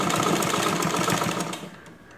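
Domestic sewing machine running steadily as it stitches a newborn baby diaper pad, a dense rapid motor whir close by that eases off and fades near the end.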